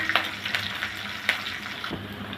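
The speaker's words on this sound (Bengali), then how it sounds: "ভালো করে ভেজে নেব।" Chopped onion and slit green chilies fry in oil with a bay leaf in a home kitchen pan, giving a quiet, soft sizzle broken by a few sharp pops and spoon scrapes.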